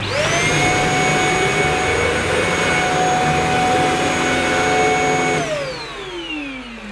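A Shark Apex UpLight corded stick vacuum cleaner HZ400UKT runs with a loud, steady whine and a high motor tone, close by, then spins down as it is switched off.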